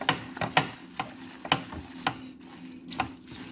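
Egg yolks and a whole egg are stirred into chicken and bacon pasta in a hot pan, with repeated scraping clacks of the utensil against the pan in an uneven rhythm over a soft sizzle.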